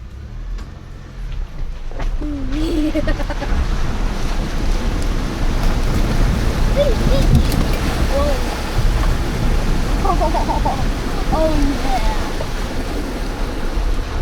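A 2024 Chevy Colorado Trail Boss pickup drives through a river crossing, water rushing and splashing steadily around the truck under engine rumble for several seconds, with faint voices inside the cab.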